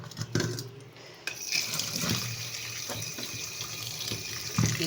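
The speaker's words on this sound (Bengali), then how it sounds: "ঘি করলা এখানে ধুয়ে নিচ্ছি" Tap water runs steadily into a sink while small bitter gourds are rinsed by hand, the gush starting just after a brief pause and continuing with splashes and occasional light knocks close to the mic.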